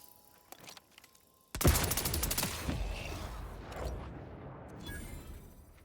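Grenade explosion in a video game: a sudden loud blast that breaks the quiet and trails into a long rumbling decay, preceded by a few faint clicks and followed by scattered sharp pops.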